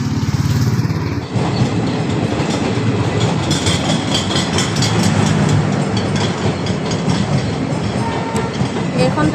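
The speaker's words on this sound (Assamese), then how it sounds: "এইখন ট্ৰেইনত আমি ফুৰিবলৈ গৈছিলোঁ" A train rolls along the rails with a steady rumble and rhythmic clickety-clack of the wagons, loud and close throughout, with a heavy low engine drone underneath.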